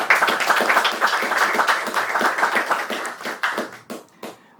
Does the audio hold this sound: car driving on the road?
no